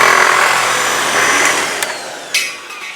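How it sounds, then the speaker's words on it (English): A razor wheel slices lengthwise along corrugated sheet metal, giving a steady, loud, harsh grinding hiss that dips slightly and ends with a couple of brief scraping bursts. "So now with the razor wheel, we've learned how to cut across. Now we're going to learn how to cut with."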